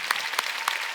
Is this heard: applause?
yes